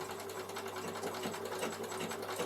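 A Bernina sewing machine stitches wool appliqué, its steady rapid mechanical whir and needle chatter running evenly and close up, with no talking.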